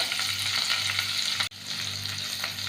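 Crushed ginger and garlic frying in hot oil in a pan, a steady close sizzle with a brief break midway as the pan is stirred.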